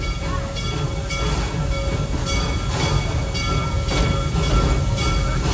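The Serengeti Express train at Busch Gardens rolls along steadily, a loud continuous rumble with a faint hiss and periodic clicks from the rails, heard from on board with no one talking.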